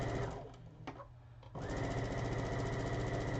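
A domestic sewing machine stitches a quilt seam, its steady rapid motor whir running loud and close, pausing briefly before picking up again at full speed.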